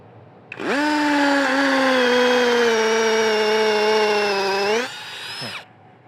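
A Masaru SCDI-105 cordless impact drill drilling into concrete whines steadily for several seconds, loud and close, then winds down as it stops.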